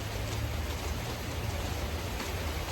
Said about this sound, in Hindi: तो बारिश आ रही है, मौसम कति बढ़िया हो रहा है,